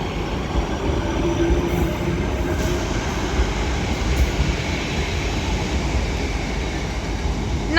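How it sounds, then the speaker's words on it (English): A Northern class 323 electric train pulls out of Liverpool Lime Street, a steady loud rumble of wheels and traction motors with faint whine and rail noise filling the station, no talking. "323-225 departs at the 14:15 Northern service to Wigan North Western"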